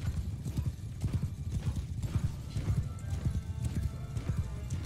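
Horses gallop in a mounted cavalry charge in Mount & Blade II: Bannerlord, a dense, steady drumming of hoofbeats close by with occasional whinnies, and no talking.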